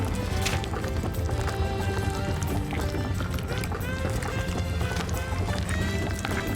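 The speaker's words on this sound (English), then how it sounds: "Is that the sound of a horse and carriage?" Steady clip-clop of a horse and carriage in The Witch and the Hundred Knight video game, a continuous rapid hoof rhythm mixed with game music and ambience throughout.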